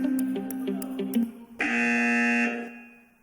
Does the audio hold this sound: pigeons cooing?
no